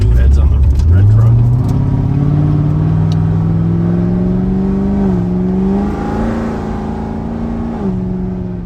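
A 750 rwhp C7 Corvette Z06 with a supercharged LT4 and BTR cam revs up close, the pitch rising to a held high drone with small dips, over people talking.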